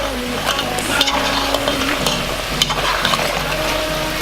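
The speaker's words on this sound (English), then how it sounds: "Break up any fries or chips, whatever you want to call it." Homemade chips frying in a pan make a loud, continuous hiss and crackle, with frequent metallic scrapes and clinks of stirring and breaking up the chips close by.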